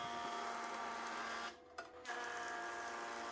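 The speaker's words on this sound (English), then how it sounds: "This is me running my joiner without the dust collection attached." A woodworking jointer runs with no dust collection hooked up, a steady machine whine with a broad hiss and humming tones, briefly dropping away for a moment before resuming at the same level.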